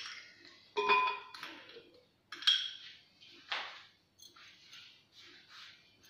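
Dried dates dropped into a blender jar for a talbina recipe, a few soft clunks and light clinks against the jar in quick separate bursts, close and fairly quiet with no talking.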